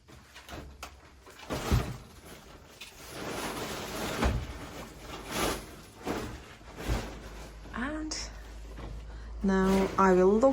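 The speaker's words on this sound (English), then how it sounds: "Now I will lock this door" A cellar door in an old Italian wine cellar under restoration is pulled shut and locked, with scraping and knocking handling sounds, a short latch screech near the end, and a person talking throughout.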